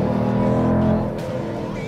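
A Dodge Durango SRT's powerful Hemi V8 engine drones steadily during a launch-control start, then eases slightly in pitch, a deep rumbling exhaust heard up close with no talking.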